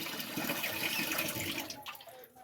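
Water flows steadily and fairly close at a town market in Dacuton, Capiz, a continuous splashing rush that tapers off toward the end.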